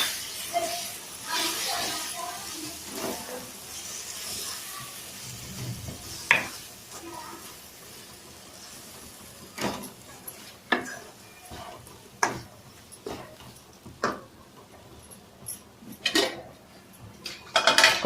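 Coconut, sesame and tamarind paste is stirred into a simmering egg masala gravy, soft sizzling under repeated scrapes and sharp clinks of a spoon against the pan, scattered and close, with some speech mixed in.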